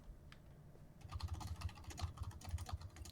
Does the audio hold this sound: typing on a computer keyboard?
yes